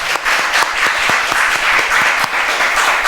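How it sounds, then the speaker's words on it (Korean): A church congregation applauds briefly during a service, a full, even roar of many hands clapping together, loud and sustained with a few sharper claps standing out. "영광의 박수를 짧게 돌려보겠습니다"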